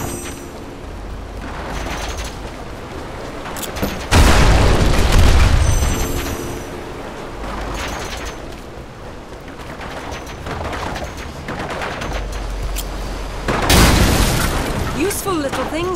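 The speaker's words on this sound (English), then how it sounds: "These bombs. Just try to stay clear of the blast." Bombs going off in Lara Croft and the Temple of Osiris: two deep, loud booms several seconds apart, each with a rumbling tail, over a busy game background, with voices talking between them.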